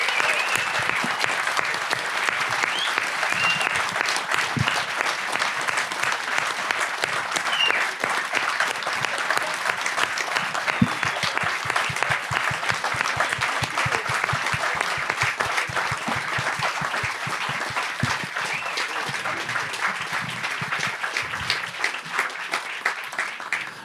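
A large audience applauds steadily and loudly for honest police officers, a dense, even wall of clapping that continues unbroken throughout.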